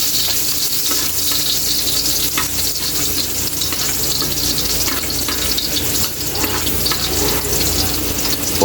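Garlic sautéing in a pan hisses with a loud, steady, crackling sizzle throughout, with faint scraping of stirring mixed in and no talking.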